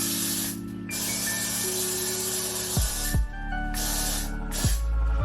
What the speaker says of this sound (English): we're just gonna spray that all over the hair